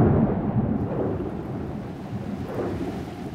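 Heavy pouring rain with a low, rolling rumble of thunder makes a steady, dense wash throughout, fairly loud and with no voices.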